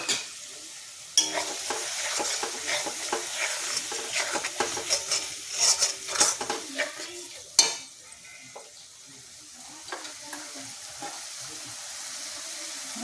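Ground turmeric, cumin and chili fry in a pan with onion and ginger for a Bengali fish-head curry, giving a soft sizzle broken by frequent scraping stirs and clinks of a spoon against the pan, with no talking.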